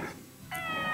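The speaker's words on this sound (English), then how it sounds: "You are absolutely like a real-life cat." Cat meows from the farming life-sim game Story of Seasons: Pioneers of Olive Town, with a short soft mew followed quickly by a clearer, brighter meow, alone with no talking.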